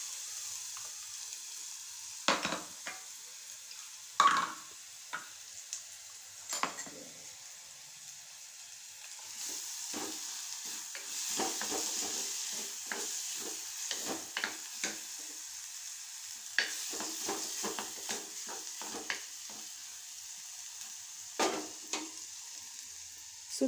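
Beaten egg mixed with pepper and blended tomato paste fries with prawns in a pan. The sizzle runs throughout, broken by repeated spatula scrapes and knocks, and no one speaks.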